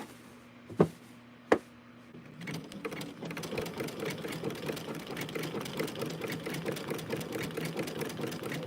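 A sewing machine stitches a quilt, starting after two sharp clicks and settling into a rapid, even mechanical hum that runs continuously and fairly close.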